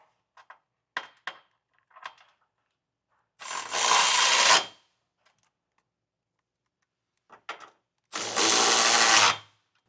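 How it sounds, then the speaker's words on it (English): Trailer hitch bolts on a 2026 Toyota Grand Highlander tightened with a 3/4 inch socket: two loud bursts of ratcheting or impact-tool rattle, each about a second long, separated by small clicks and silence. "Now we can tighten everything down with a 3/4 inch socket, or a 19 millimeter will work."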